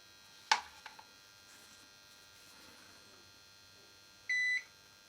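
An FSP 650 uninterruptible power supply, just switched on, gives a short electronic beep after an initial click and relay clunks, over a steady low hum in a quiet room.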